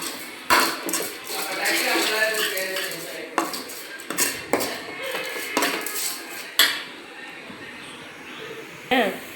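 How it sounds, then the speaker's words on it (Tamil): Tomatoes and onions are stirred in a cooking pot, a metal spoon knocking and scraping against the pot in irregular clanks, with a voice talking steadily underneath. "நல்லா கிண்டி விட்டுக்கணும் தக்காளி தக்காளியெல்லாம் மசிஞ்சு வரும் வெ வெங்காயம்லாம் நல்லா வதக்க வதங்கி கொடுத்துட்டு இருக்கும்"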